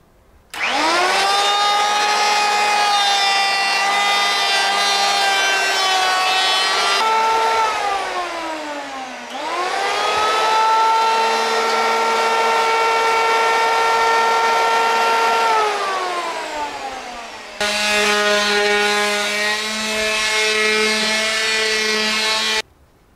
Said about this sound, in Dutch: Tijd om te schaven en te schuren.